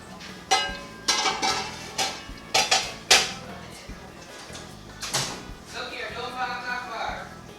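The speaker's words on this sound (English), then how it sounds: "I'm gonna put the fish in the pot" Clanking of a metal pot and utensils while fish is placed in for fish tea soup, several sharp knocks and clinks in an irregular cluster, then softer rattling and scraping, close and fairly loud.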